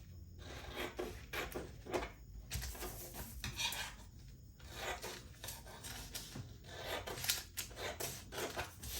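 Scissors cutting fabric for a body-con crop top, a quiet, close run of repeated rasping snips and slides in irregular bursts.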